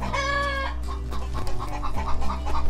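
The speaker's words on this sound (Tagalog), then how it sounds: "Yung mga manok ko, sumisigaw sila." Chickens cluck loudly and close by, with one bird letting out a strained crowing call at the start, followed by a stream of short, choppy clucks.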